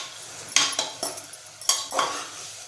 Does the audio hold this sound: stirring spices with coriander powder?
yes